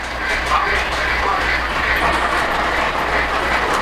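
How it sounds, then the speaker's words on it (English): Polar Express model freight train with tender and caboose rolling along its track past crossing gates, a steady continuous rumble and rattle of wheels on rails, close and fairly loud throughout. "Here comes the freight train."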